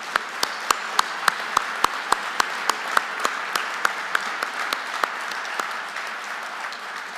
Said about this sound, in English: Can we give all of the award winners and one more round of applause?